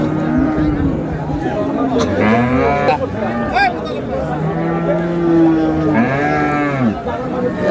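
Dairy cows and calves moo loudly and close by at a cattle market in Dinajpur, Bangladesh, several long, drawn-out calls overlapping one another with a low murmur beneath.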